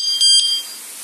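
A motorcycle disc lock alarm gives a short, shrill electronic beep or two, close and loud, then fades to a faint high tone.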